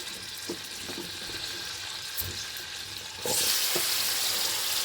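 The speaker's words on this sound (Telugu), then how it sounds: "మనం దీంట్లో కొంచెం ఆయిల్ వేసుకుని మన కాలీఫ్లవర్ వేగుతూ ఉంటుంది ఫ్రెండ్స్" Steady sizzling of cauliflower frying in oil, with a few soft scraping stirs; the hiss grows louder partway through. No talking.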